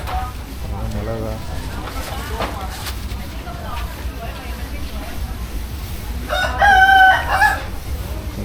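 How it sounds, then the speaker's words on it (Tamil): A rooster crows inside the busy Klong Toei market in Bangkok, several short calls ringing out, the loudest near the end, over market bustle and nearby voices. "சேவல்லாம் கூவுது உள்ள."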